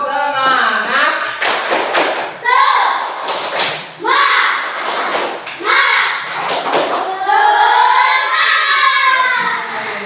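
Students in a classroom perform a rhythmic spirit clap, sharp clap bursts in a patterned sequence alternating with loud chanted group voices.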